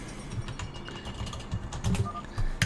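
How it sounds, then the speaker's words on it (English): Rapid keyboard typing during a StarCraft-style competitive match, a run of quiet, irregular key clicks and clatter with low background hum, no talk over it. "I'm hoping for a good game, so I type GLHF."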